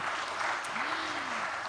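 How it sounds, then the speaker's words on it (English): Audience applause at a summit session for a moderator, a steady moderate patter of clapping from a hall crowd with a voice briefly heard over it. "A round of applause, please, for our moderator for this session."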